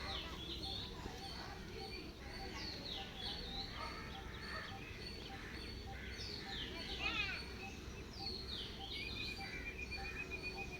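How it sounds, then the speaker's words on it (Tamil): Pigeons feeding on ration rice in the morning, with steady chirps, clucks and soft bird calls scattered throughout over a constant busy background murmur. "எல்லா புறாவும் ஜாலியாக சாப்பிட்டு இருக்காங்க"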